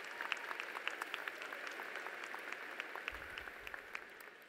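A commencement audience for a college of education and health professions claps in a fairly faint, distant, even patter of many hands, steady throughout.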